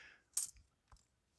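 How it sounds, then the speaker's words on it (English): A small 1951 Argentine 5-centavo coin clinks and rattles as it is handled, one bright metallic burst followed by a softer tap, close and quiet. "From Argentina, here's a small coin."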